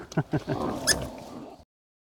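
Pigs on a Texas pig farm outside Flatonia grunt in a few short close bursts, then break into a longer squealing oink before the sound cuts off abruptly.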